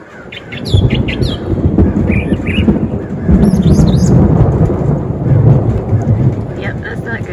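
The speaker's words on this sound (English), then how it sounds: "There's still some thunder in the background" Thunder rumbles low and steady through a storm, a broad deep roar rolling under rain patter, with birds chirping intermittently near and far across the scene.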